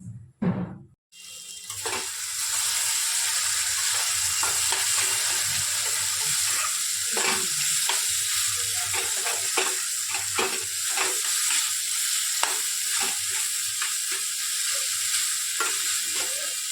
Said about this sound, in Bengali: এটাকে ভালো করে কষিয়ে নেবে তাহলেই রেডি